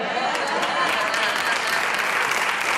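A television studio audience on a Spanish afternoon talk show applauds steadily, dense continuous clapping throughout with faint voices mixed in.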